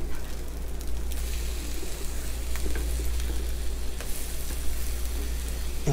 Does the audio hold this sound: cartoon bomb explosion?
no